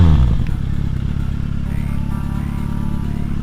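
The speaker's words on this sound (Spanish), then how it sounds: "Hola, este es el exhausto original de la Z800. Solamente quitamos las recámaras manteniendo aún el catalizador. Escuchémoslo." A Kawasaki Z800 motorcycle on its original exhaust, with the baffles removed but the catalytic converter kept, gives a loud, deep engine rev that starts strong, then settles into a steady rumbling idle held close to the microphone.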